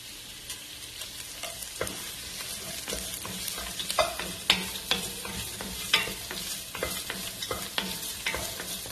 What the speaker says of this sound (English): That is the kumquat peel or orange peel, star anise, the bay leaves,